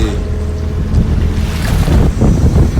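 Sea waves wash around an open-sea sea bass fish farm, a steady, loud roar of surf and water with wind buffeting the microphone, continuous throughout with no voices.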